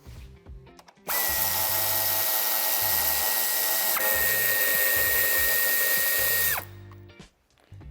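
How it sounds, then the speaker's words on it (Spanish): A power tool whines steadily as it backs out screws securing a plastic bumper reinforcement on a 2020 Dacia Sandero Stepway during tow hitch fitting, one long continuous run with a brief pitch dip midway. "Para ello quitaremos los dos tornillos a ambos lados."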